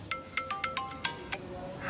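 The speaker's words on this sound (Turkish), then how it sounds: "Sonunda açtın yani telefonu Sanem." A mobile phone rings with a bright, repeating electronic chime, a quick series of short tonal notes at moderate volume heard alone.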